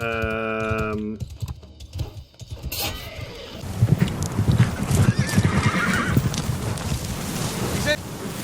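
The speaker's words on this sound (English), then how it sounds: "And Balian finds a horse that was, I think, was his horse" In the video game Mount & Blade: Bannerlord, a horse whinnies loudly, then hooves clop steadily amid wind and outdoor rumble, with a voice briefly audible near the start.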